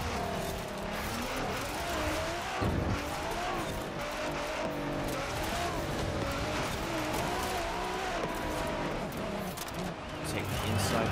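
Racing car in Forza Horizon 4 on a woodland dirt-race route, loud steady engine drone with bursts of skidding tire noise, someone speaking over the driving.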